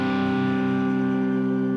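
A steady, sustained distorted guitar tone from a Line 6 Helix rings out alone, thick and buzzy with a touch of reverb, holding at an even loudness throughout.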